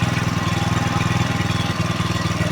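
A small homemade engine generator runs steadily close by, a rough, continuous putter like a little generator motor, with no voices.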